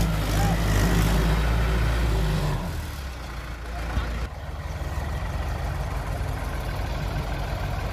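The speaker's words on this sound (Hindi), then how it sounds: "ट्रैक्टर छोटा है और देख लो पूरा दम लगा रहा ट्रैक्टर" A small Eicher 368 tractor, a 2014 model, strains under heavy load in a pulling contest against an Arjun 555, its engine a steady loud drone with a deep rumble that eases partway through as voices talk over it.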